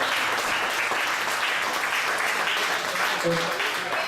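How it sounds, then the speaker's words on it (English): An audience claps at a Sarnia First Friday local event, a sustained dense patter throughout, with a voice briefly audible near the end. "clap for them if you would"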